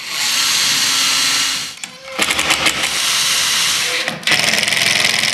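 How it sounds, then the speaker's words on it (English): A power drill whirs loudly in sustained bursts, stopping briefly between them, with stuttering pulses as screws are driven into a wooden box joint jig close by. "drill out and drive some screws"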